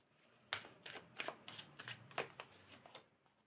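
Tarot cards shuffled and drawn by hand at close range, a quiet string of soft papery flicks and slaps in an uneven rhythm, with no talk.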